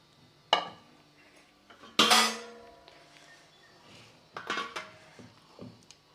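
Metal pots and vessels clatter and clink as marinated chicken is moved into a bigger pot, with a few sharp separate knocks and a cluster of rattling hits, fairly close and with no talking.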